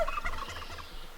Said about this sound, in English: apart from the turkeys